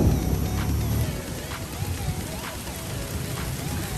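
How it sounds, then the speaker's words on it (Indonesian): Heavy rain pours down at Tebing Keraton cliff park in Bandung, a dense, constant hiss of drops hitting surfaces that stays loud and even throughout. "Di sini hujannya sangat deras guys."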